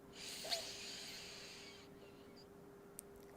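A single slow inhale drawn through the left nostril during alternate nostril yoga breathing: a soft, airy hiss lasting about two seconds that fades into quiet stillness, faint and close, with no talking.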